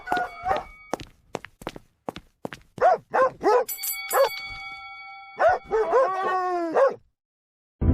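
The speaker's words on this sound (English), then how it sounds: "She waits for the microsecond pause between barks" A dog barks in a quick, irregular series of sharp, close barks and yips with short pauses between them, alongside some thumping footsteps, ending in silence.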